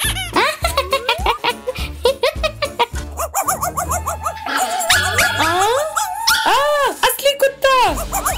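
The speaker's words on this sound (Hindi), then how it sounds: "असली कुत्ता।" A real dog barks, yips and whimpers in quick, loud, excited bursts, close by, mixed with people talking and exclaiming over the top.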